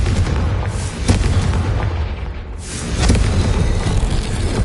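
Confringo fire spell in Hogwarts Legacy exploding with deep, loud booms, two rumbling blasts about two seconds apart amid continuous low roaring, no voices.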